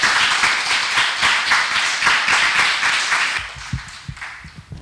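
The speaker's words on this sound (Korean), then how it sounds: "큰 박수로 환영해 주시면 감사드리겠습니다." An audience of young people gives warm applause to welcome a guest lecturer at a Korean church event. The clapping is loud and full at first, then thins into scattered claps.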